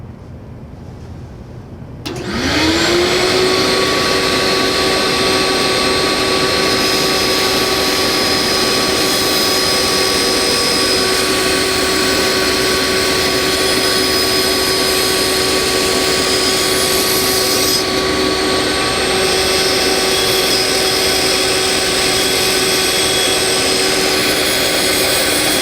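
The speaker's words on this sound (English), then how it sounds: "I'm going to take this to the bandsaw and remove the excess material on either end" A bandsaw runs up to speed with a steady high whine and hums continuously while trimming excess material from both ends of a wooden zero-clearance tablesaw insert, loud and close with no talking.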